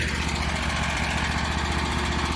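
A Skag riding lawn mower engine runs steadily at close range while cutting thick, dusty grass, a loud continuous drone with a rapid pulsing throb and no talk.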